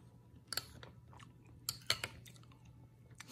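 Someone crunches a cheap, crispy junk-food snack, with a handful of sharp, close bites scattered through quiet chewing.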